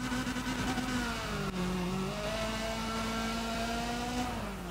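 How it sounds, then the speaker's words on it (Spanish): Car engine revving hard and steadily while drifting in the racing game Need for Speed ProStreet, a loud continuous engine note with pitch slowly shifting as the throttle is held and adjusted. "este coche para mí es uno de los mejores que hay en el juego a la hora de driftear."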